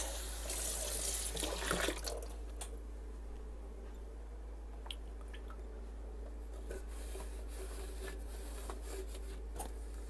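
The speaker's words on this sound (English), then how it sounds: "I'm going to rinse out this." Tap water running into a kitchen sink to rinse out a container while preparing black bean hummus, a faint steady trickle with small clinks and drips, no voices.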